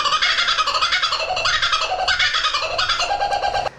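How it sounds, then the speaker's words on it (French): A laughing kookaburra, a bird native to Australia, calls close and loud in the Hunter Valley countryside, a rapid, rolling cackle of repeated hoots that rises and falls in bursts for several seconds. "un oiseau endémique de l'Australie qui fait un cri particulier, qui ressemble un peu à un singe ou quelqu'un qui rigole"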